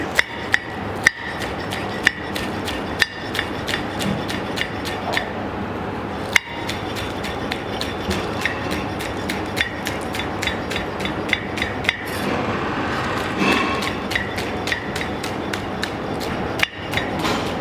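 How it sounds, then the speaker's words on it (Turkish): Parsley and coriander are chopped finely on a cutting board, the knife striking in a steady series of sharp close taps over a busy kitchen background. "maydanoz ve kişnişi de küçük küçük doğrayarak yine rengarenk bir salata yapacağız"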